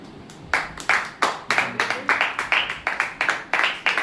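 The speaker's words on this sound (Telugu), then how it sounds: "చప్పట్లు కట్టండి." A small group of people at a birthday party clapping in a steady, even rhythm, close by and fairly loud, with faint voices before the clapping starts.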